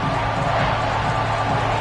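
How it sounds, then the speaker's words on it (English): A big football stadium crowd roars for the defense near the goal line, a dense, steady wash of cheering and noise with no clear breaks. "this big crowd doing everything possible to inspire this defense down here near the goal line"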